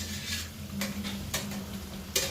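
Cooked gnocchi being stirred into a butter and basil sauce, with soft scraping and a few sharp utensil clacks over a low steady kitchen hum.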